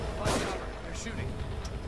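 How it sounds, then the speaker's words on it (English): Enemies fire guns from above in the horror game The Evil Within. A short burst of shots sounds early on, and a few fainter cracks follow over low background noise. "They're shooting."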